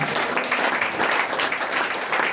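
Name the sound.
congregation applause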